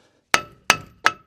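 Three evenly spaced hammer taps strike a brake disc on a Ford Transit Custom van, each a sharp ringing metallic hit with a short decay, close and clear with no talking.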